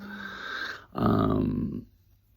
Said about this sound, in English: If you can hear a noise, that's my dog in the background.